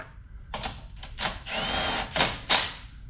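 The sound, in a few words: small impact wrench snugging wheel hub bolts on Lexus GS 350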